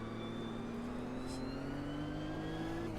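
Simulated Nissan race car engine in Automobilista 2, a continuous revving note climbing steadily in pitch with a slightly raspy edge, alone without talk.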